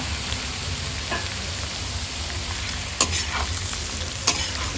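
Chopped pork frying with curry leaves in a pan hisses in a soft, steady sizzle, broken by a few sharp scrapes and clinks of stirring, with no one talking.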